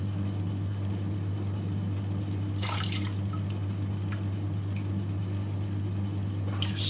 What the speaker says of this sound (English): It takes forever to mop my water out.